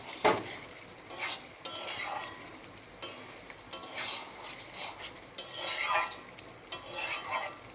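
Prawns and taro greens with ground coconut are stirred in a pan, heard as soft intermittent bursts of a utensil scraping and mixing over a faint sizzle, close and quiet with no voices.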